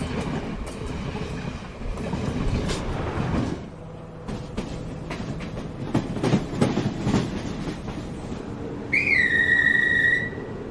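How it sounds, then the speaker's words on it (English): Old diesel and electric trains in Sri Lanka rumble and rattle past with clattering wheels and a steady mechanical roar, ending in a loud rising two-tone horn near the finish. "Trains in Sri Lanka by Rail Audio gives you a collection of old diesel and electric train sounds."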